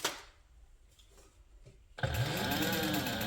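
Sewing machine starting up on a handbag after a quiet pause, running steady and near for the last second or so.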